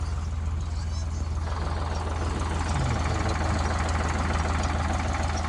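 A tractor engine idles steadily beside a maize field, a continuous low rumbling drone that stays even throughout with no voices.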